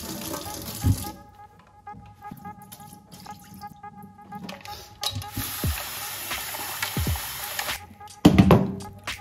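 Ingredients for Peruvian ceviche go into a bowl of cold water with ice, with clinks, sloshing and dripping, interrupted by a few sharp knocks and a louder splash near the end.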